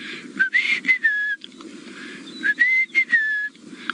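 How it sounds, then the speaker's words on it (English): A rufous-napped lark in the Masai Mara gives repeated clear, whistled phrases in short bursts, with soft, low background noise running beneath the calls. "which is a rufous-napped lark"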